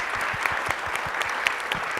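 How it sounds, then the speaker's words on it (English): Audience applause for a panel at a sustainability talk, brisk crisp handclaps packed densely together, steady and fairly close throughout the short burst. "let's give a big hand of applause for this awesome panel"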